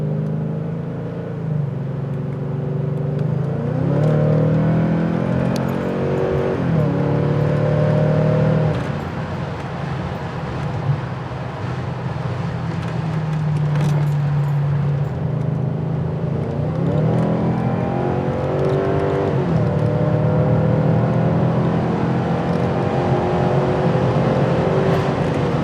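A BMW E36 M3 engine revs repeatedly, rising and falling in long sweeping pulls with a loud, close, throaty tone, heard alone without any talking.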